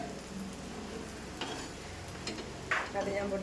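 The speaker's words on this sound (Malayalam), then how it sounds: "ചോറയ്ക്കുള്ള മുട്ട പൊരിക്കണം." An egg fries in oil in a pan, a gentle, steady frying hiss with a few scraping clicks and brief rustles.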